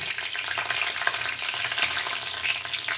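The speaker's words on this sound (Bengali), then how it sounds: "গোটা গরম মশলা দিয়ে দিলাম" Whole garam masala spices frying in hot oil in a pan, an even, close, continuous sizzle with faint crackles and light stirring throughout.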